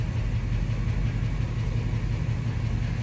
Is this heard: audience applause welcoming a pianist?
no